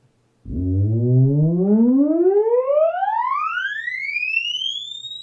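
A theremin plays a smooth electronic tone sliding continuously upward from a very low pitch to a high one, loud and unbroken, with no talking.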